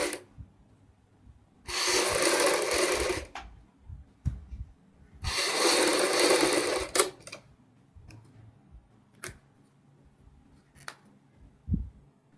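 A sewing machine stitches a woman's off-shoulder suit in two separate runs of rapid whirring, each lasting a couple of seconds. Quiet gaps with small clicks and handling sounds fall between and after the runs.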